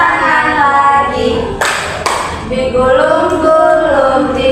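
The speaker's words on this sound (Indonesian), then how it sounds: "tepuk tangan lagi." A classroom of children claps hands together twice in quick succession during a group action song, the sharp claps landing over continuous singing voices.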